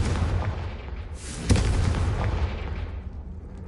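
A Confringo fire spell bursts in Hogwarts Legacy, a single sharp blast landing over a steady rumbling game backdrop, followed by a fading, crackling roar.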